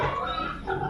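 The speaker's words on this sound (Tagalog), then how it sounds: "magkakatay na sila ng baboy" A pig squeals loudly and continuously at close range on the eve of a town fiesta in Aklan, just before it is butchered behind a house, with a dense, harsh cry and no talking.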